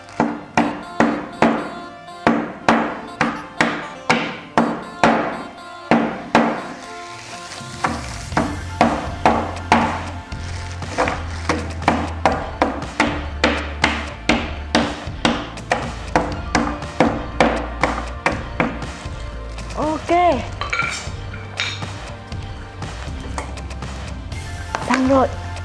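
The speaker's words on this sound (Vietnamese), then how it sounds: "Và dùng một cái búa đập." A hammer smashes chunks of dry ice in a bowl, landing a fast, steady series of sharp, close knocks and cracks that continue throughout, with a voice at times.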